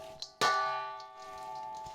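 Metal bowl clangs as a Thai steak and noodle salad is tossed: a light tap, then a loud ringing clang that hums and fades, with faint scraping and clinks after.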